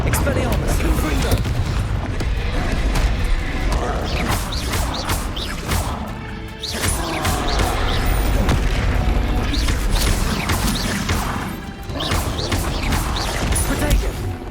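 Confringo blast spells fired in Hogwarts Legacy on PC go off as repeated loud, booming explosions in a dense, continuous stretch of combat noise, with voices calling out over it.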